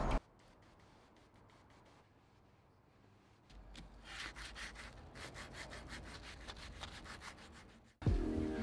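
Steady abrasive rubbing of sandpaper on a wooden coffee table, quiet at first and growing louder and more continuous partway through, with a sharp noise at the end.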